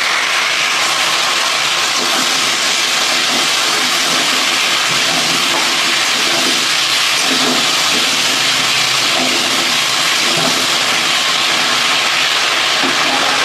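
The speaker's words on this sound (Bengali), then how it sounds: "আলুগুলোকে ভেজে নিই" Potatoes fry in hot oil in a home kitchen, giving a loud, continuous sizzling hiss that fills the whole stretch with little variation.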